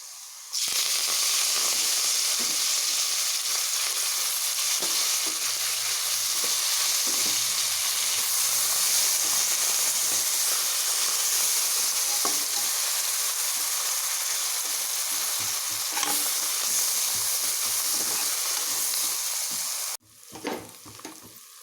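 Onions sizzle in a hot pan with coriander and mint leaves for chicken biryani, a loud continuous frying hiss with occasional stirring scrapes, stopping abruptly near the end.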